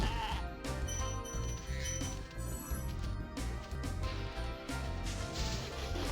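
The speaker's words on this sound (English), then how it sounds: "Ah, there's a sheep in there." A sheep bleats in the Spyro the Dragon PlayStation game, standing out over dense, steady game music that fills the whole stretch.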